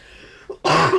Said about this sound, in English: I'm gonna take a second to cough.